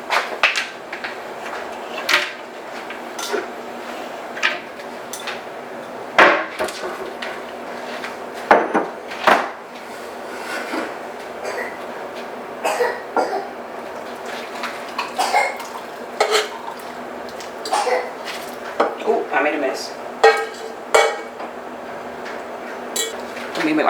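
Dishes and bowls clatter in a home kitchen while ramen noodles cook, with scattered sharp clinks and knocks of crockery and cutlery coming close and loud in irregular bursts over a quiet background.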